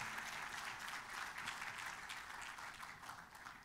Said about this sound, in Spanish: ¿Cuánto le damos un aplauso al Señor por las familias que están con nosotros?